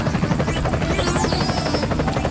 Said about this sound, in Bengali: হেলিকপ্টার